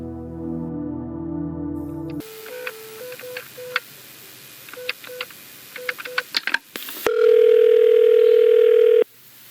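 Telephone line tones at the start of a recorded phone call: a brief hum, then a series of short regular beeps and clicks, ending in a loud sustained steady tone; no talking.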